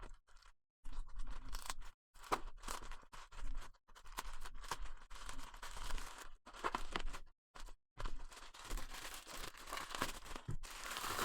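A large plastic bag is pulled open and stripped off a Ducky One 2 Mini 60% mechanical keyboard box, giving close, loud bursts of crinkling, scratching and tearing broken by short pauses.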